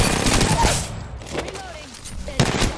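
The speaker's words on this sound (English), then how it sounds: "The enemies are shooting at me." Bursts of gunfire from enemies shooting in Apex Legends, sharp rapid shots and impacts mixed with game effects, fairly close and loud, with a voice speaking over them.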